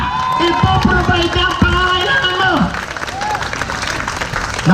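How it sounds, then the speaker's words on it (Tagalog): Congregation applause at a church service, mixed with cheering voices and a musical tone, loud and close, with talk in the room running under the clapping. "Naku, yung palakpak ninyo,"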